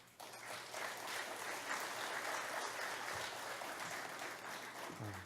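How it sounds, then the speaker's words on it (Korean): A church congregation at a Wednesday worship service applauds to welcome a missionary, with dense, sustained clapping from many hands filling the room and fading out near the end. "이제 선교사님 나오실 때 큰 박수로 환영해 주시기 바랍니다."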